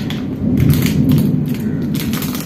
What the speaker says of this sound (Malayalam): ഇടി വെട്ടുന്നു.